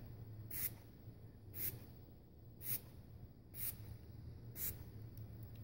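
Solution sprayed onto a torch-heated copper plate in five short, evenly spaced hissing bursts about a second apart, over a low steady background hum.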